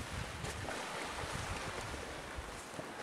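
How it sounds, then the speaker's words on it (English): Strong wind roars over surf on a stormy Alaska beach at Strawberry Island, a dense, continuous rush of wind noise and breaking waves with no voices. "Pretty windy out still today."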